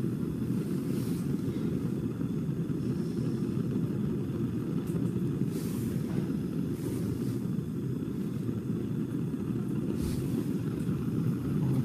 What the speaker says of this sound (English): we want the blue Bunsen flame, then we're going to stick the end of the tube into the hottest part of the flame